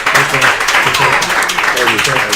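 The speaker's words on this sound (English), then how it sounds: "Give a round of applause" Loud, close applause in the studio for Liverpool football players on a morning show at Avicolli's, brief and dense, with voices talking over the clapping throughout.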